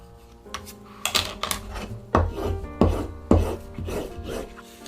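Burnishing the back side of leather with a glass tool while making a slim glasses case, a series of close, rasping rubbing strokes in an uneven rhythm, several distinct passes, with no talk.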